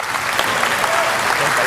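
Loud, dense applause fills the chamber of the Philippine House of Representatives, a steady wash of many hands clapping close by, with speech detected under it.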